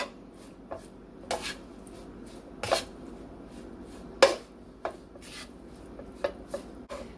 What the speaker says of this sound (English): and then just stir that